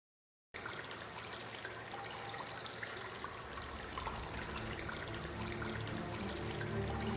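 Water pours in the video game Bright Memory, a steady, faint rushing trickle that starts abruptly after a moment of silence and then runs on evenly, slowly swelling a little, with no voices.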